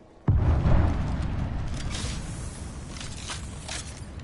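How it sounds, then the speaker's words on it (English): A thermite grenade going off in a PS4 video game: a sudden heavy boom followed by a long, roaring, crackling burn that slowly fades over several seconds, with faint clicks and scraping movement noises on top. "Throwing thermite."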